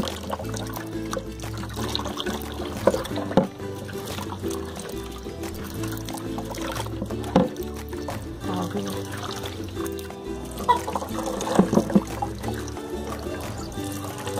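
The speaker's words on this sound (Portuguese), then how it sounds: "Você vai só trocando a água." Water is poured and trickles repeatedly while hair is rinsed at home to remove yellow tones, with soft splashing and dribbling, occasional louder gushes and drips, and close, steady liquid noise throughout.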